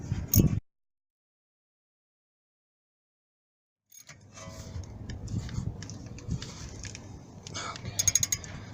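Ratchet wrench tightening rear brake caliper bolts on a 2007 Mazda 3, heard as a quick close clicking run, then a pause and a longer stretch of busy mechanical ratcheting and clatter.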